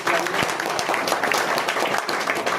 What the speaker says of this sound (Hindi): आप जोरदार तालियां बजाइए